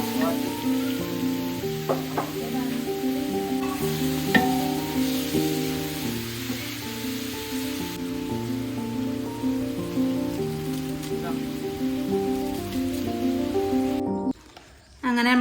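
Sliced onions frying in coconut oil for a 5 kg catering batch of beef biryani give a steady, close sizzle throughout, under a melodic tonal background, dropping out briefly near the end.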